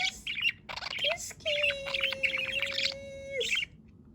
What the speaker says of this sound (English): Cute baby bird.